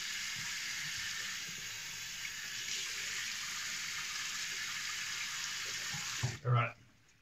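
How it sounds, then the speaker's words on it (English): Hot water runs steadily from a bathroom tap for shaving, a constant close hiss of flowing water that stops abruptly near the end with a brief bump. "I'm going to put some hot water on the face again anyway."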